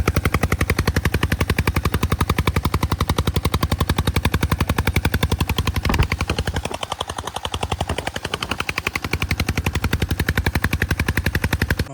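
A newly fitted engine, sourced from Batala, runs at a village shed during paddy planting, giving a loud, steady, rapid thumping that continues unbroken for the whole stretch with no voices.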